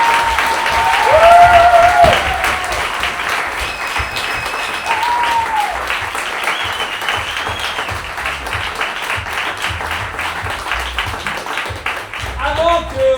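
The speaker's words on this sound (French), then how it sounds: "faites un tonnerre d'applaudissements pour les comédiens qui seront sur scène ce soir" A loud, sustained round of applause from a theatre audience greets the improv actors before a comedy show, clapping steady throughout, with cheers and whistles rising over it and voices mixed in.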